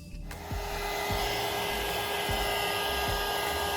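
A hair dryer blows steadily and loudly after a short start, quick-drying ivory Waverly chalk paint on a decoupage craft piece, its whine constant with faint low knocks underneath.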